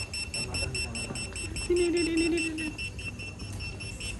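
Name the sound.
alarm signalling food is cooked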